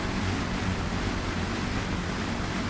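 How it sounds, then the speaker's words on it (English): A boat engine in a video game revs at full throttle, giving a dense, steady broadband roar that holds evenly at moderate level with no voices over it. "Go ahead and throttle all the way out. That engine is revving way up there."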